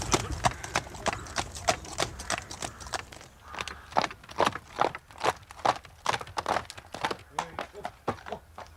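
Horse hooves clip-clopping at a steady walk, a continuous series of crisp, evenly spaced knocks on a hard surface, fairly close throughout.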